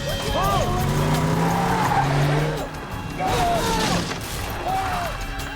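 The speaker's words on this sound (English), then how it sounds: "3 vehicles just broke through the barricade." Several vehicles tear through a roadblock at a quarantine barricade, tires squealing and skidding with revving engines, loud and close, while voices shout over the commotion.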